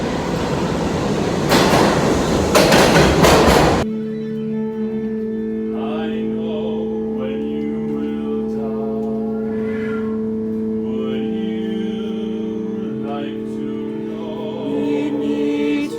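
Subway train at an underground platform: a loud rushing, clattering burst of the moving train, then a sustained steady electric hum and whine as it sits idling, with faint background clanks.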